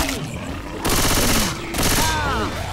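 Game gunfire in Left 4 Dead 2 as a player shoots a Boomer zombie, with two loud bursts of rapid shots broken by pauses, under voices and game effects.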